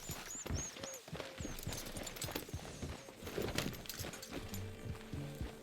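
Horse hooves from the video game Red Dead Redemption 2 clip-clop at a walking rhythm, close and moderately quiet, mixed with game ambience and brief musical tones.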